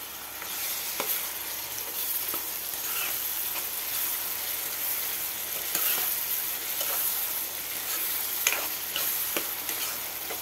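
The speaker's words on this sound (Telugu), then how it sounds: "బాగా పచ్చివాసన పోయే వరకు ఫ్రై చేసుకుందాం ఫ్రెండ్." Onions fry in a pan with ginger paste, turmeric and salt for Andhra chicken curry, a continuous dense sizzle and hiss with faint clicks of stirring throughout, close and unvoiced.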